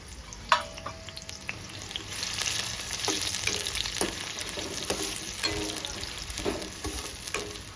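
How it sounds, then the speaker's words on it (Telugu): Sliced onions frying in a pan for Telugu mutton cucumber curry, a continuous loud sizzle broken by regular scraping strokes of a spatula, with a sharp knock near the start; no talking. "బాగా ఫ్రై చేసుకోవాలండి ఉల్లిగడ్డ"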